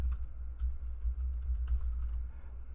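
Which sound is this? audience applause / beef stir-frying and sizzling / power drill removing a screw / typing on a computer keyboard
typing on a computer keyboard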